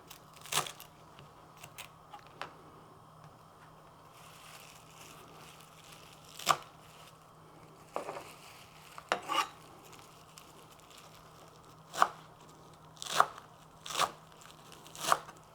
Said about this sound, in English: let's chop this parsley and make it ready